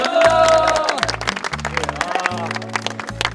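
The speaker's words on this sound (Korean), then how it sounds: "박수 한번 드리겠습니다." Clapping from a gathering of military chaplain officer trainees after a sports day, with sharp irregular claps building over sustained music-like tones.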